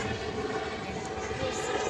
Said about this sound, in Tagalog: Helicopter pa sa taas.